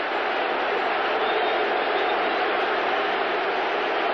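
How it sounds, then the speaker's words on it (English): A packed football stadium crowd roars in a sustained, loud wash of voices booing quarterback Robertson as he is escorted off the field, a dense, unbroken din with no single voice standing out. "I've never heard this loud a booing of anybody or any game"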